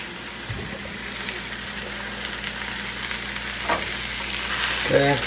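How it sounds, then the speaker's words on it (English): Rice fries in a hot pan, giving a steady close sizzle and crackle for the whole stretch. Occasional scrapes and clinks come from stirring. "because we're frying the rice"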